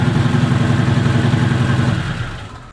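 A 1956 Volkswagen Beetle engine running on a 43% ethanol blend idles steadily with a low, loping mechanical chug and faint clatter, close and loud, then fading toward the end.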